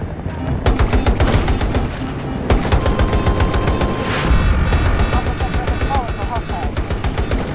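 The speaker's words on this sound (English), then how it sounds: "Somebody's shooting. Be careful." Gunfire in Battlefield 2042 on the Caspian Border map in hardcore mode: dense, rapid automatic bursts and single shots crackle almost without pause, loud and close, with occasional distant booms mixed in.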